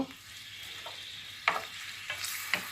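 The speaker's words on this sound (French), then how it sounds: "Donc on va faire revenir un petit peu notre ail et notre oignon." Chopped garlic and onion sauté in a few spoonfuls of olive oil, a steady soft sizzle broken by a few sharp clicks and scrapes as the pan is stirred.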